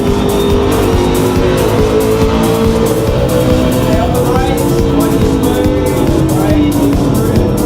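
Formula One race car engine in a racing simulator video game, a loud continuous high-revving engine whine with shifting pitch and tire squeal, steady throughout with no pauses.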